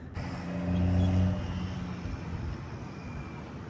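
Electric trike motor on a MeetOne Breeze Pro e-trike driving in reverse under throttle: a short, moderately loud motor whine that rises briefly, then settles into a lower hum under outdoor background noise.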